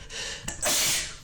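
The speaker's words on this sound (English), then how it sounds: "that was a sneeze" A single sharp sneeze, close and abrupt, preceded by a quick inhaled breath.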